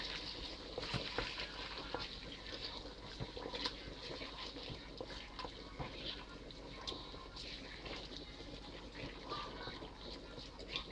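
Ghanaian chicken stew sizzles quietly in a pot while a spoon stirs it, giving faint scraping and bubbling sounds with irregular clicks.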